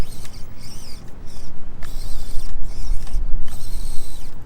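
An Axial SCX24 4Runner RC crawler with a small motor climbs over rocks, giving close, busy whirring and creaking with the motor pulsing in short bursts as the tires struggle for grip.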